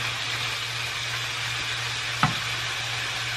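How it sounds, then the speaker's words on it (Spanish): Onions frying in a pan for a lasagna sauce, a steady soft sizzle with one brief knock of a utensil partway through, all set against a faint low background hum. "We add the onions and we give it a time"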